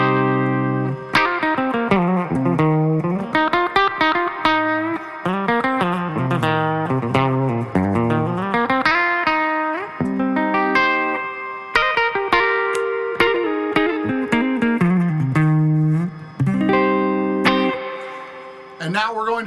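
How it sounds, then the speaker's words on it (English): Clean electric guitar, a PRS semi-hollow through a 2-Rock Classic Reverb tube amp, plays chords and melodic lines with a warm, slightly reverberant tone, notes ringing and decaying in a relaxed rhythm for a long stretch. "my clean tone. This is my PRS custom semi-hollow going into my 2-Rock Classic reverb"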